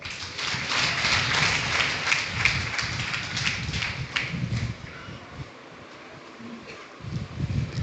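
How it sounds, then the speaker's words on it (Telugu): A church congregation at Sunday worship claps together, a dense burst of applause that thins out and returns near the end, with no speech over it. "చప్పట్లు కొడదాం."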